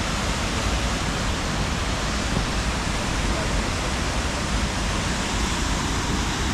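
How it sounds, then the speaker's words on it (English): Waterfall at Snuff Mills, a steady broadband roar of falling water that stays loud and unbroken throughout, with no talk in the clip. "Look at that beautiful waterfall over there"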